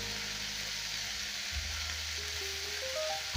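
Chicken liver dry fries with spices in a pan, a steady, even sizzle at moderate loudness that holds throughout with a low background hum, no talking.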